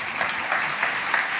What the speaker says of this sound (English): Big applause, Francisco.